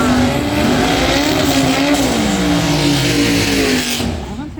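Drag race launch between a Datsun 1200 and a twin-supercharged six-cylinder one-tonner, engines roaring loud and continuous with pitch climbing through gears, then fading at the end.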